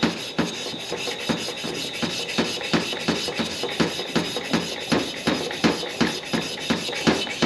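Sandpaper rubs back and forth on a motorcycle handlebar tube of an old Indian ME 100, making loud, close, rhythmic rasping strokes at a steady pace of roughly two per second with no talking.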